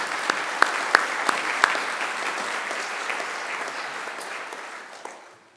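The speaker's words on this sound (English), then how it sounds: "Let's join in another round of applause." Graduation ceremony audience at Macquarie University breaks into broad, dense applause, a sustained wash of many hands with a few sharper near claps early on, gradually fading out at the end.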